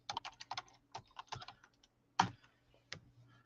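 Fingers tap quickly on a computer keyboard, a close, quiet run of clicks followed by a few sharper single keystrokes with short pauses between them.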